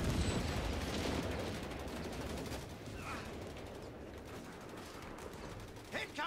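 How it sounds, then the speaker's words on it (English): Rifle and machine gun fire in a Company of Heroes 3 battle defending the beachhead at Salerno, a dense continuous rattle of shots under low rumbling, with a faint voice mixed in and a few sharper bursts near the end. "Alright, so they're shooting there."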